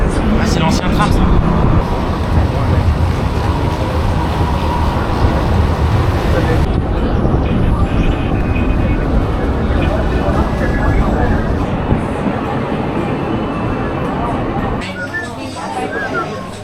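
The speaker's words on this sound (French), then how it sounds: "Ah, c'est l'ancien tram ça." An old tram passing along a Hong Kong street makes a loud, steady rolling rumble with mechanical clatter that holds for over a dozen seconds and eases slightly near the end.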